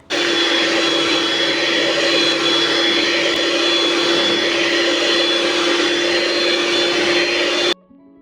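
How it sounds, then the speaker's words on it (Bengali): An electric hand mixer beats egg whites at medium speed, making a loud, steady motor whir with a constant pitch that runs unbroken until it cuts off near the end. "একটি ইলেকট্রিক বিটার দিয়ে ডিমের সাদা অংশগুলো একটু বিট করে নেব।"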